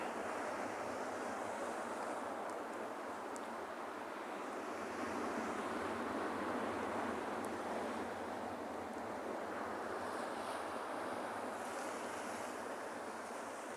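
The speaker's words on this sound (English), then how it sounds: "So just watching the waves." Steady ocean surf washes continuously onto a South African beach with rocky pools, a broad even rush of breaking waves with some wind noise, no voices.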